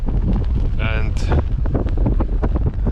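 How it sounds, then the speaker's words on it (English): Strong wind buffets the microphone in a constant loud roar near the Fagradalsfjall volcano by Grindavik, Iceland, with a voice briefly speaking underneath. "As you can see, it's pretty windy"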